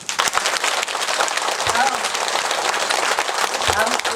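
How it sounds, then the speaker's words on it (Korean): Applause from a lecture audience after a Korean talk on the Diamond Sutra, a continuous busy patter of many hands clapping at close range, with faint voices mixed into the noise. "큰 박수로."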